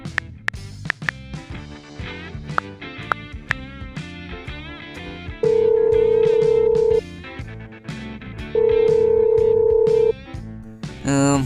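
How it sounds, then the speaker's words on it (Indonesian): A telephone rings in an animated school comedy, two long steady electronic ring tones over background music, loud and near. "Oke, kalau begitu saya telepon dulu ya."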